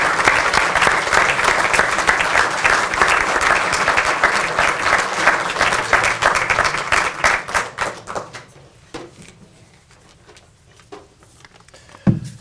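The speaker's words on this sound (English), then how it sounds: "Let's give them a round of applause." At a heritage preservation awards ceremony, a crowd's loud sustained applause rolls on, then thins to scattered claps and near quiet before one last sharp clap.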